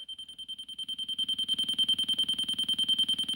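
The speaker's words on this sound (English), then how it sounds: "Let's start with the alarm clock." A weather radio's alarm clock tone (iLuv iMM183): a loud, rapid pulsing electronic beep sounds steadily, getting louder over the first seconds and then holding at a constant level.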